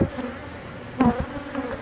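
Honeybees buzz inside the wall of an abandoned house, a close, droning hum with a brief louder swell as the swarm stirs, and no voices.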